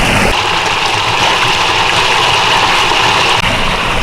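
Cold spring water at Vrelo Bosne rushes and splashes steadily up close, a loud continuous gush with a hand dipping into it.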